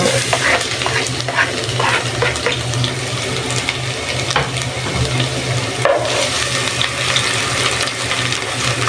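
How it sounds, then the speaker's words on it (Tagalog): Garlic fries in hot cooking oil with a steady, continuous sizzle throughout, joined by occasional stirring scrapes and clinks close by, and no one speaks. "So, ayan, mainit na yung ating mantika. Ilagay ko na yung ating bawang."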